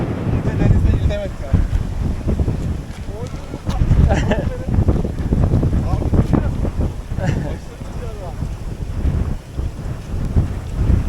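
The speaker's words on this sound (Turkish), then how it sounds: "rüzgar çok fazla" Strong stormy wind roars and buffets the microphone continuously on open water at Arsuz, with people talking and shouting over the gusty rumble.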